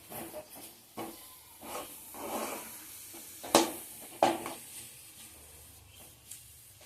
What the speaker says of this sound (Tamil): கைவிடாமல் கிண்டுங்க.